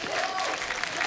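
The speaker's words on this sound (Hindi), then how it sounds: "जोरदार तालियां बनती हैं" A live audience claps on a comedy stage show, with a brief, steady burst of applause and faint crowd noise.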